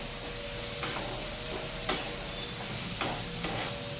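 Ridge gourd frying in roasted masala with oil, a soft steady sizzle broken by a few sharp scraping stirs of a spoon against the pan.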